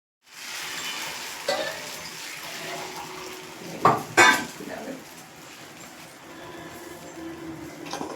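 Paneer frying in a pan gives a continuous soft sizzle close by, broken by a few brief clatters of a utensil against the pan partway through.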